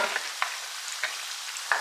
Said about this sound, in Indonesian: Langsung digoreng. Ini 1 kilo ya, langsung saya goreng semua.